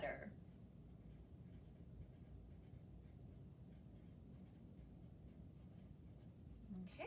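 A pen writes on paper with faint, continuous soft scratching, quiet and steady throughout.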